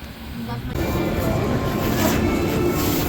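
Inside a double-decker metro train in Paris, a steady low rumble of the moving carriage continues throughout with faint background voices.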